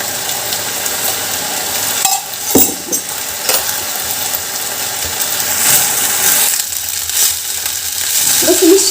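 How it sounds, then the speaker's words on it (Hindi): Rice tossed and stir-fried with sauce over a high flame for restaurant-style veg fried rice, a steady sizzle broken by a few sharp scraping and clanking strokes of the spatula against the pan, with a loud burst near the end. "हम इसमें चावल को ऐड करके सॉस के साथ मिक्स कर देंगे"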